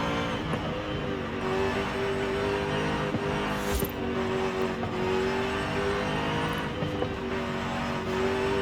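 A supercharged Jaguar SVR races through corners in Forza Horizon 5 and holds high speed. Its engine drones steadily and loudly at a fairly constant pitch, with a faint whine on top and occasional small clicks.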